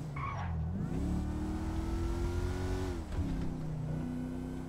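A fully modified Toyota Fortuner in GTA V gameplay, its engine humming and rising in pitch as it accelerates, dipping briefly before revving on, with a short tire squeal near the start.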